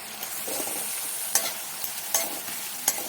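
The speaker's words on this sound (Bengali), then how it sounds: "দিয়ে ভালো করে মিশিয়ে দেব।" Ginger, garlic and onion paste stirred into softened onions and chillies frying in a pan, bright continuous sizzle broken by a few sharp scraping strokes of a spatula, close and without speech.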